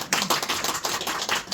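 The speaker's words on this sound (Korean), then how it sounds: "아니, 박수 한번 쳐요." Church congregation clapping at an ordination service: a brief burst of many hands applauding in quick, uneven claps, fairly close and loud, with no voices over it.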